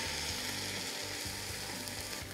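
Cavolo nero fries in a pan with tomato being added, a steady close sizzle running throughout with soft low bumps from the pan and no talking.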